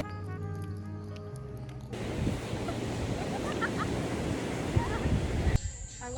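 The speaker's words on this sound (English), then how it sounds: "This is how windy it is." Strong wind blowing across a rocky beach, a loud, steady roar buffeting the microphone for several seconds. A brief voice and other sound come just before it, and the wind cuts off abruptly near the end.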